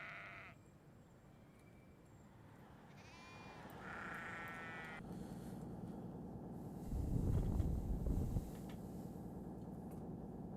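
Sheep bleat in the Train Simulator 2021 countryside, a few wavering calls in the first half over a low rumbling train drone that swells louder later, with no talk.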